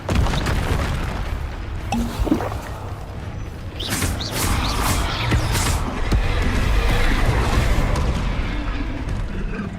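Bombarda explosion spells in the video game Hogwarts Legacy, heavy booming blasts with crumbling debris and whooshes over a dense, loud game soundscape, with rumbling impacts recurring through the stretch.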